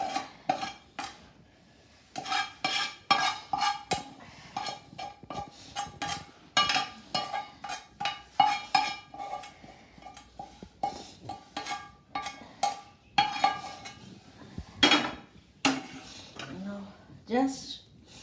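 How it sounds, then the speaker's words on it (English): Egg fried rice with vegetables stirred gently in a pan, spoon and utensil scrapes and clinks repeating in an uneven rhythm, close and moderately loud, with a person talking over them. "Just mix it gently so that you won't mash up the rice or break the rice grain"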